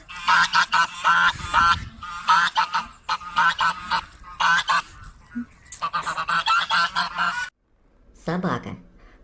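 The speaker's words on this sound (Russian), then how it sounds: "Гусь. Да и гуси тут живут." A goose honks repeatedly in loud, nasal bursts, close by and steady, with short gaps between the calls and a brief pause near the end before a final honk.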